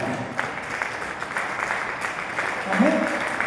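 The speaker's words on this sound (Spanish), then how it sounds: "Dale el aplauso a esa palabra." Church congregation applauding during a sermon, a dense spread of clapping hands running throughout at moderate loudness, with a voice speaking over it partway through.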